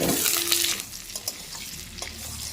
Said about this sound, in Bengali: আলু আর পেঁয়াজ একসাথে করে খুব ভালোভাবে কিন্তু ভেজে নিতে হবে